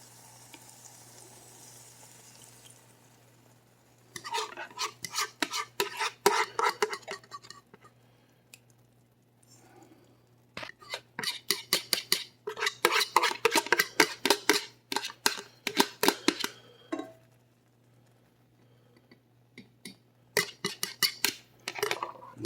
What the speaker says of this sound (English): now what we're going to do is add our egg in